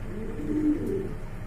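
A pair of Mundi pigeons cooing nearby in a low, soft, continuous murmur over a steady room background, no talk.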